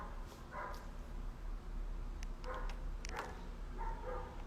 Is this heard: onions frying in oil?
no